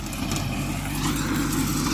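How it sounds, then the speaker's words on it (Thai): Tractor rotary-tilling a flooded rice paddy on a second pass after seeding, a steady mid-distance diesel drone with churning mechanical clatter, continuous and without speech. "ตอนนี้รถไถก็ปั่นเป็นรอบที่สอง"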